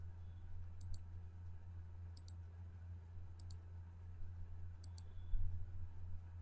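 A computer mouse clicking while working in Photoshop: four crisp, evenly spaced pairs of close clicks over a quiet background hum.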